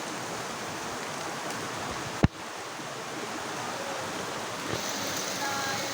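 River water rushing in a continuous broadband wash, steady and fairly close, with one sharp knock partway through and no talking.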